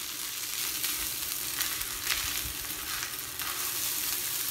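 Egg stirred into a stir fry sizzles steadily in a pan, with soft scraping and stirring strokes at a moderate, close-up level.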